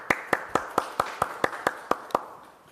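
Audience at a Korean social innovation forum clapping to welcome the next speaker, a slow, even rhythm of about ten distinct claps, fairly close, with no talk.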